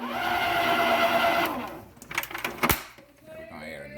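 An electric mixer whirs steadily as flour and buttermilk are mixed into pound cake batter, loud and close for about a second and a half before stopping, followed by a few clattering knocks.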